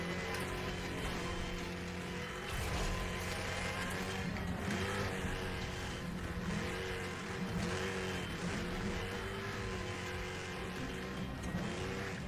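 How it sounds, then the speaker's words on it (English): An Audi Quattro in the racing game Need For Speed The Run makes a handbrake turn, its engine droning and revving steadily with tire noise, loud and continuous throughout. "Do a little bit of a handbrake turn."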